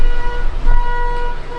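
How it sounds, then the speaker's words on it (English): Car horn sounding near a garage where a turbo small block Ford is going into a Cougar. A steady tonal honk holds over low vehicle rumble and traffic noise, then briefly dips before sounding again. "someone's honking a horn"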